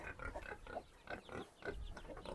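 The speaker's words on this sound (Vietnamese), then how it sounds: "nhà anh có nuôi mấy con lợn nữa ở trong này này." Pigs kept in a pen at a Dao village home high on Mau Son mountain in Lang Son grunt and oink in a continuous, rhythmic series of close, moderately loud snorts.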